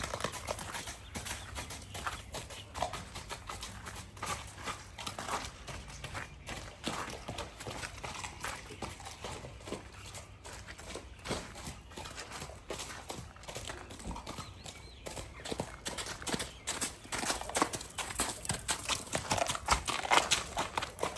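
Horse hooves clip-clop in a steady walking rhythm, fairly close, over faint outdoor background noise.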